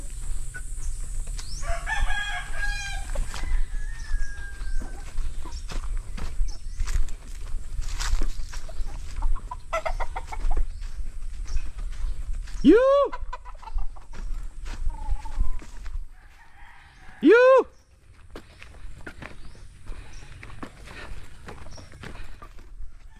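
Roosters, including Gull and Claret gamefowl, crow twice at a moderate distance over a low background hum, with scattered chirps and clucks in between, in Tuburan, Cebu.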